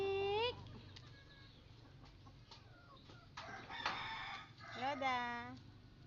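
Free-range Rhode Island chickens calling in a morning yard, with several close, loud warbling clucks and a drawn-out crow-like call near the end, while people talk softly in the background.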